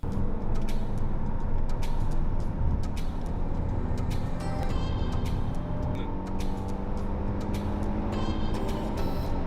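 Kia Telluride SUV accelerating in sport mode, a steady loud engine roar with road and wind noise filling the whole stretch, heard from inside the cabin without talk.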